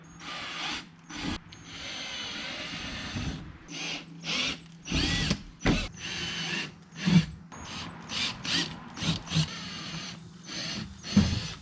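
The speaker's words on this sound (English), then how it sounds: "So the holes are all drilled out now to a 1/4 inch." A power drill enlarges holes from 1/8 to 1/4 inch in the rear bumper of a C7 Corvette, sounding as repeated short close bursts of whirring and grinding separated by brief pauses.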